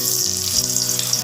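A dried red chili hits hot oil in a wok and sizzles loudly and evenly for a brief moment, with nothing else heard.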